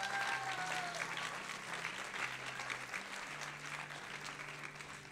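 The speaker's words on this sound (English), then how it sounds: "Let's all give them a round of applause." Applause from the audience at a school instrumental spring concert, honoring students: soft, distant, continuous clapping heard throughout, with a faint sustained musical tone underneath.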